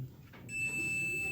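A multimeter gives a steady continuity beep as its probes touch an air conditioner part, a single sustained high tone starting after a brief click, close and moderately loud.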